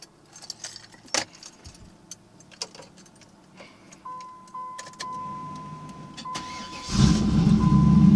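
Keys jangle and clink inside a 1993 Pontiac Trans Am with a Flowmaster exhaust, then a chime sounds before the cold engine cranks and catches, settling into a loud, deep, rumbling idle close by.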